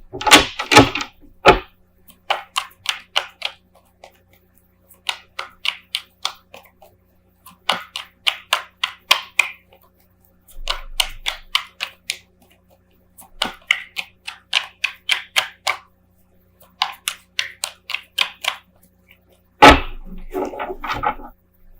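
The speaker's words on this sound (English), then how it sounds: "Just gather all the cards here." Tarot cards being gathered and shuffled, with repeated bursts of rapid crisp card riffles and taps, each a second or two long, separated by short pauses, close and clear.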